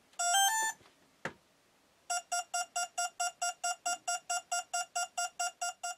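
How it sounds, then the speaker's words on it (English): An electronic speed controller for a Dynam Tiger Moth model plane, wired to a receiver and battery, powers on with a short rising tone sequence, then a steady train of about sixteen evenly spaced, loud, sharp beeps. "Well, it beeps a lot,"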